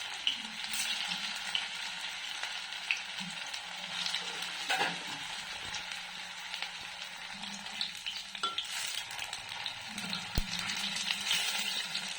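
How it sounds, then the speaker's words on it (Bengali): Veg Manchurian balls frying in hot oil in a kadai, a steady, fairly quiet sizzle and crackle with occasional stirring clinks, no talking. "এবার আমি আস্তে আস্তে মাঞ্চুরিয়ানগুলো ছেড়ে দেবো তেলের মধ্যে।"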